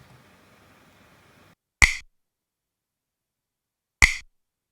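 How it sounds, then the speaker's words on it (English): A dry finger-snap sample from a music track, heard alone: two crisp, short snaps about two seconds apart, with a faint fading tail of music before the first. "snap sounds like this alone"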